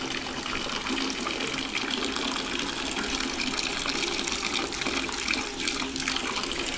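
Water pours steadily from a tap in a lodging bathroom fed by a gas-cylinder heater, a constant hissing gush that carries on unbroken with no voices.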